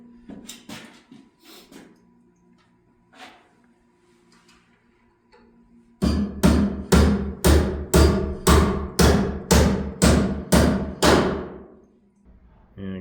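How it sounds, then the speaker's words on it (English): Nails are hammered into lumber on a building site: a few scattered knocks, then about a dozen loud, evenly spaced hammer blows ringing close by. "So we'll finish nailing that off"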